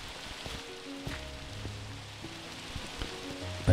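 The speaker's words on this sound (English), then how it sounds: "If you can sleep, then it's a thunderstorm. If not, it's just simple rain." Steady rain falling in the Minecraft video game, a soft continuous patter with faint game tones and clicks layered over it, no voices.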